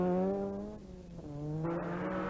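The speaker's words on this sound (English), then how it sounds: "English visitor Phil Collins heads the 3-car challenge of the Ford Sierra Cosworths." Ford Sierra Cosworth rally car on a 1986 Donegal Rally stage, engine note climbing through gears with a brief dip and lift, fairly close and alone with no talk.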